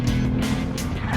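A Lexus RC F engine roars while driven fast on an open road, a loud, throaty, sustained drone with small surges in revs over a brief moment.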